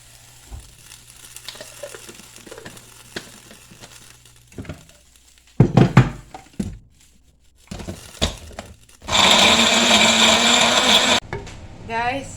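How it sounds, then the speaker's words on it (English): A small Magic Bullet blender grinds ingredients for a Cameroonian collard greens dish, whirring loudly in a steady two-second burst after scattered kitchen knocks and clatter, with a voice talking earlier. "I'm just going to use my little magic bullet to grind it."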